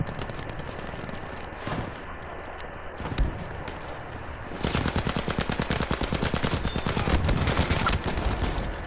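Welgun submachine gun firing in Battlefield V, a sustained rapid automatic burst of close, even shots lasting several seconds, preceded by scattered battlefield noise and a lone shot.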